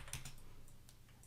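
A few quick, quiet keystrokes on a computer keyboard as a number is typed, close by and alone.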